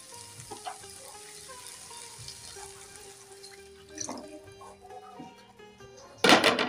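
Water pours in a sudden loud, hissing rush into sizzling spice paste for a katla fish and soya chunk curry. It lands near the end, after a stretch of quiet kitchen clatter and low frying noise.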